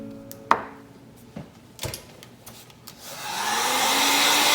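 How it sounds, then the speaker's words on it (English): A hair dryer switches on after a few light clicks and knocks and then blows steadily and loudly at close range to dry watercolor paint on paper. "I'm gonna go ahead and dry my shadows really quick."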